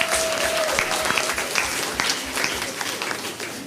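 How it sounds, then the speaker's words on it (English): Audience applause for participants at an inter-primary school quiz, a sustained round of many hands clapping at moderate loudness that holds for nearly four seconds with a brief tone at the start. "Please give them a round of applause."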